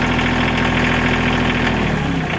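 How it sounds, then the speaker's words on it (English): A Bobcat CT2025 compact tractor engine runs steadily close by. The loud, even mechanical drone holds throughout with no talk over it. "When you use the hydrostat, the engine bogs down."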